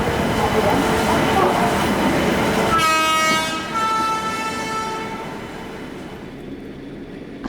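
Mumbai CSMT to Chennai passenger express train, loud rumbling rail noise at first, then a sustained horn blast that fades as the train passes and the sound thins out toward the end.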